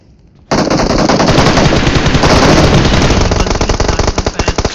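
Video game gunfire bursts in suddenly after a short quiet start, then rattles on as loud, rapid, continuous automatic fire that breaks into choppier bursts near the end, with no talking.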